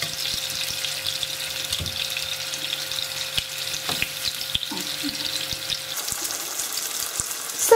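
Celery fries in a pan with a steady, even sizzle and crackle. Occasional soft clinks and stirring sounds come through close by, and no one talks.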